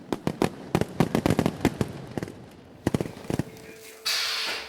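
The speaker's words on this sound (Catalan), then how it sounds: "A la vegada, la varietat, formes i colors dels coets ha anat creixent." Fireworks rockets and mortars, electronically fired at a pyrotechnic display, crackle in rapid loud bursts and salvos, followed by a sustained roaring hiss at the end.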